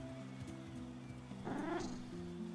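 Cat in the video game Edge of Eternity: a short, faint meow rising briefly over soft game music, heard once in the middle.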